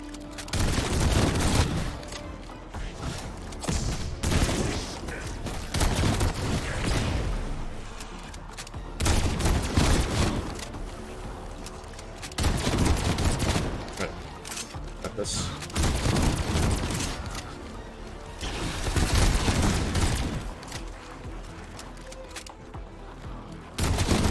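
Gunfire in a shooter video game as enemies are shot, repeated bursts of rapid shots and booms coming in waves across a long stretch, loud, with someone talking now and then between them.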